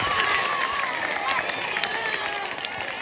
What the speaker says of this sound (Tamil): ஜோரா கைத்தட்டு பார்ப்போம்